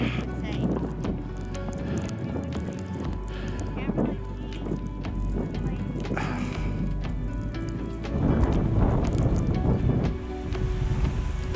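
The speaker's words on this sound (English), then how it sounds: "The wind is vicious up here." Strong wind roars and buffets the microphone on an exposed winter ridge, a steady low rumble with gusts that swell louder near the end, along with scattered rustles and crunches.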